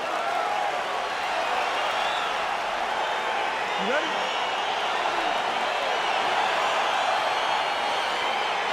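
Steady crowd roar from a UFC 4 video game arena as a simulated Masvidal versus Burns bout gets underway, a dense constant wash of cheering throughout, with a brief spoken line near the start.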